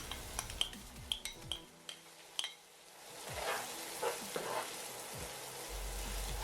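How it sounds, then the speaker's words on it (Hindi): Finely chopped onions fry in a handi, with soft clinks and scrapes of a spoon stirring against the pot, followed by a rising sizzle as the onions cook, moderately quiet and close. "प्याज़ों को हमने इतनी देर फ्राई करना है कि इनका जो कलर है वो गोल्डन ब्राउन हो जाए"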